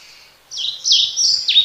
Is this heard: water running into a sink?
no